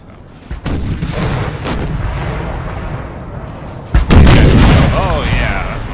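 Artillery bombardment in the Napoleon Total War video game, a steady roar of cannon fire with sharp booms at the start and a louder heavy burst near the end, no voices.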